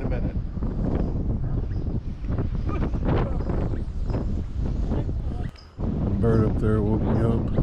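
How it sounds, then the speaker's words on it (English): Wind buffets the microphone with a loud, constant rumbling roar, and a voice is heard briefly toward the end. "you probably can't hear me because it's windy"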